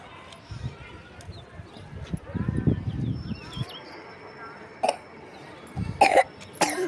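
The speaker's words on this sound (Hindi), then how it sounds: "खांसी आ रहा बच्चे को" A child coughs a few times in short, sharp bursts near the end, close by, over faint background noise and movement.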